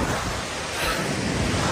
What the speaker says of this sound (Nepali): यो खोला चाहिँ यता बागलुङकुपमा गएर धोरपातनबाट आउने उत्तर गङ्गा नदीसँग मिसिएर चाहिँ